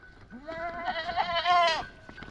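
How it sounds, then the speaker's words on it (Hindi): Newly arrived goats on a hill farm let out a loud, wavering bleat lasting over a second, close by, with a few quieter animal sounds and a light background hum around it. "और जो नई बकरी आई है"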